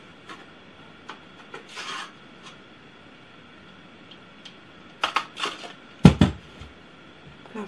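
A Crop-A-Dile punch cuts a vertical slot: faint rubbing and shuffling handling noises come first, then a few crisp, close crunching clicks as the punch bites through.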